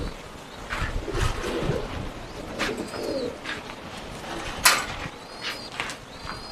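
Pigeons coo repeatedly nearby, soft throaty calls in an irregular rhythm over faint rustling and background noise.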